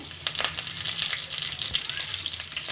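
Curry leaves crackle and sizzle as they fry in hot oil with chana dal and urad dal, a close, steady spitting hiss with bright popping bursts.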